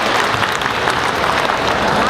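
A crowd at a Little Saigon anniversary celebration in Orange County applauds as attorney John Chan is welcomed, a loud, dense patter of many hands clapping steadily throughout.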